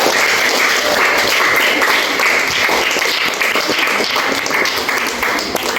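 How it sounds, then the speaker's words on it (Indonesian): A classroom of students claps for group 6 in a steady, dense burst of applause that carries evenly through the whole stretch, with no voices rising above it. "tepuk tangan untuk kelompok 6"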